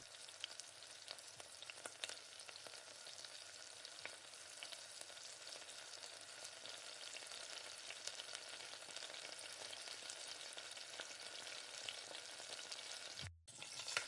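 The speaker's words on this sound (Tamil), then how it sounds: "இப்போ வெங்காயம் கட் பண்ணி வச்சுருக்க வெங்காயத்தை எண்ணெயில் சேர்த்து நல்லா வதக்கி விடுங்க" Chopped onions sautéing in oil for a fish curry, a dense continuous sizzle with occasional stirring, steady and close, no voices.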